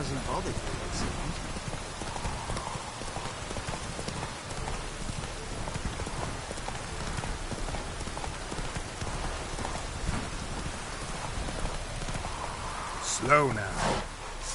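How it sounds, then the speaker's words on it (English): Steady rain pours across an open landscape in The Witcher 3, a dense hiss that continues throughout, with a horse's hooves clopping underneath and a voice speaking at times. "Rain doesn't bother you, it seems."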